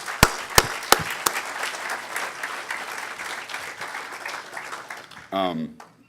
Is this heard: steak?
no